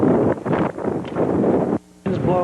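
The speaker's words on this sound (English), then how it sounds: "The wind's blowing real bad" Strong outdoor wind buffets the microphone in heavy rumbling gusts at a fenced AM radio tower construction site, loud and close, with a brief lull near the end.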